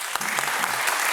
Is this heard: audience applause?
yes